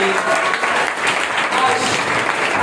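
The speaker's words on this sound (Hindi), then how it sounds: "जोरदार ताली बजाएं" A church congregation claps loudly during worship, a dense burst of hand clapping filling the whole short moment, close and energetic.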